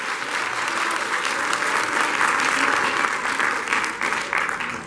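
A church congregation claps for the Lord during a sermon, a full steady roar of hand-clapping sustained at strong volume with no break, heard without talk over it.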